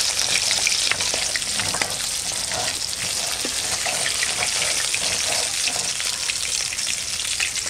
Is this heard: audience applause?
no